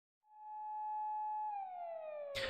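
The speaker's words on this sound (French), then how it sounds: "On pouvait entendre le son des sirènes de police au loin." A single electronic siren tone from the game Chaos;Child swells in, holds steady, then slides downward in pitch before cutting into a burst of noise, clear and alone.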